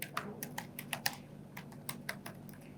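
Quick, light clicks from typing on a computer keyboard, uneven bursts of keystrokes close to the microphone over a faint background hum.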